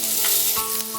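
Potatoes, cauliflower and peanuts sizzle in hot oil in a pan for Bengali-style poha pulao, with a steady frying hiss and a few brief scrapes of stirring over one second.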